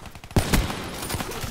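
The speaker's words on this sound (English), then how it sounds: "I'm just gonna rapid fire" Rapid gunfire in Black Ops 3 gun game mode: a burst of sharp, loud shots, the strongest cracking early and others following unevenly over a second and a half, with no talking.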